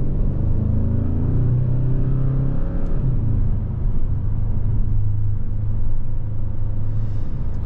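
A 2023 Hyundai Sonata N-Line cruises on the road with a continuous low engine drone and tire rumble, shifting slightly in pitch as it accelerates, heard from inside the cabin.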